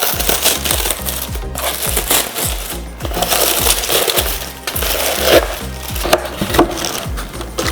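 Eco-friendly packaging is torn open and handled up close: crinkly papery crushing and rustling goes on continuously and loudly, with sharp tearing bursts and low thumps as the material gets pulled apart.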